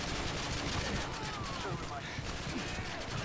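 Rapid bursts of gunfire from the video game Call of Duty Modern Warfare 2 crackle densely through a loud, busy game mix, with a player talking over the shooting.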